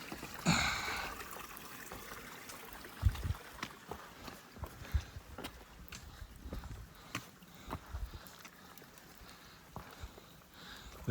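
A shallow creek that doubles as a hiking trail on the Appalachian Trail trickles faintly. Footsteps splash and slosh through the water in an irregular rhythm, with a louder splash near the start.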